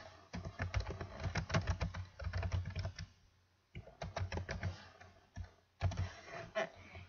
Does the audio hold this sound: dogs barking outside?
no